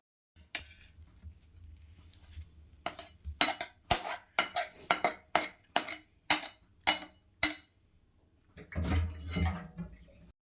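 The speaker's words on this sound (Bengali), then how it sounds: "এখন আমি এটাকে একটা প্লেটে ঢেলে নেব" Cooked semolina is scraped from a pot onto a plate, a quick series of sharp metallic scrapes and knocks of a spoon on cookware in an uneven rhythm, close and moderately loud, with brief quieter handling sounds before and after.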